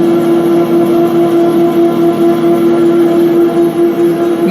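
Lathe spindle running steadily right after a gear change to a higher speed, a continuous close mechanical hum with a strong steady tone and faint motor whine throughout, no voices.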